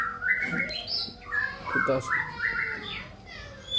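A long-tailed white-rumped shama, a tame murai batu with about eight tail bars, sings bright, varied whistles and chirps at close range, mixed with background voices.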